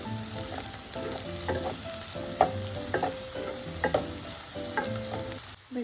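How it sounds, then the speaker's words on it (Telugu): Sliced okra (bendakaya) frying in oil gives a loud, continuous sizzle, with a spatula scraping and stirring it in regular strokes every second or so. "మాడిపోకుండా ఇలా కలుపుతూనే ఉండాలండి బెండకాయలు వేసినప్పటి నుండి."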